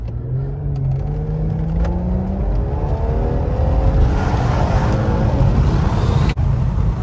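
Infiniti Q50 car driving, engine rumble building as it accelerates with rising whirring tones, steady and close, with a sharp brief knock near the end.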